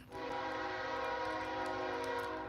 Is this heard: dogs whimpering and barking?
no